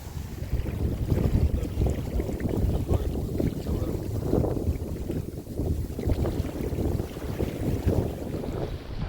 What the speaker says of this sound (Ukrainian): задуває дуже сильний вітер, одразу ви бачаєте, за звук